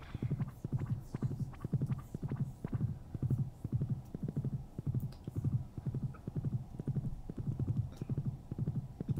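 Steady, rhythmic horse hooves clip-clop at a walking pace while crossing a bridge in the video game Stardew Valley, close and even, over a low hum.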